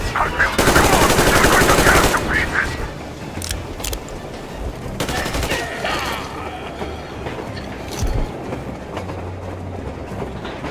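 Heavy automatic gunfire from the video game Metro Exodus, a dense loud burst for about two seconds, followed by scattered shots, clanks and rumbling mechanical noise at lower level.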